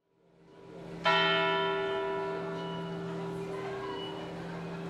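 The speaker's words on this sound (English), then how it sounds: "This is the Zeitglocke, a German word that means time bell" The Zeitglocke clock tower bell in Bern strikes once with a sharp metallic clang, then hums and rings out in a long, slowly fading sustain over a low background drone.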